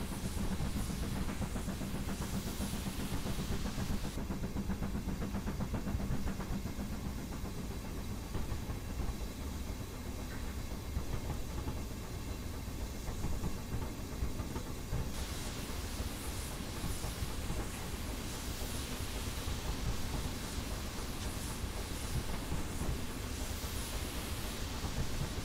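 The Oliver Cromwell steam locomotive in Train Simulator 2018 rolls toward Loughborough with a continuous rumbling rail roar, rhythmic clickety-clack of wheels and a steady hiss, loud and unbroken for the whole stretch with no voices.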